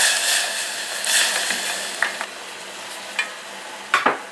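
Green papaya pieces go into salted sugar syrup at a full boil, giving a steady loud bubbling hiss with a few sharp clatters and knocks near the end.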